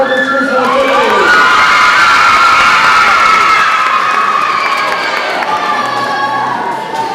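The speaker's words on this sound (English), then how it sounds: "let's hear some cheering first for 5th graders" A crowd of children at a school Bible quiz competition cheers for the fifth graders. The loud, close roar of shouts and whoops swells and then holds steady throughout.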